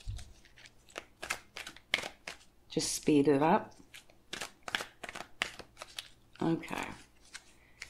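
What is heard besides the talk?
shuffling a deck of tarot cards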